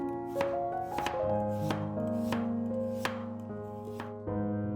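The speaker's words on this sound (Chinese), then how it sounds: "把西芹切成片， 半个胡萝卜去皮，也切成片" Knife chopping celery and peeled carrot into slices on a cutting board, in a Chinese kitchen preparing squid stir-fried with celery; steady, close, rhythmic chops with sharp knocks about every half second, with no talk.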